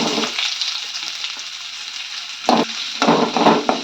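Sliced onion fries in oil in a pan, giving a steady close sizzle with a bright hiss throughout, broken near the end by a few sharper bursts of stirring and scraping.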